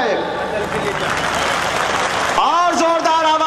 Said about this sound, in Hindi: आज उसी संविधान की हिफाजत के लिए ताली बजा रहे हैं, लेकिन इतनी जोरदार तो हो कि यहाँ तक आवाज आ जाए।